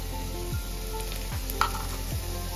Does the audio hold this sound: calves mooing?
no